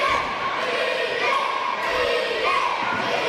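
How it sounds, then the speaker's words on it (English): Dense arena crowd noise from a professional wrestling match, a steady loud roar of cheering and shouting fans that swells slightly at moments, with occasional thuds mixed in. "Crowd getting behind DJ."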